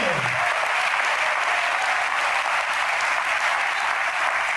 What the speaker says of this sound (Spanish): Den un aplauso al Señor en esta hora.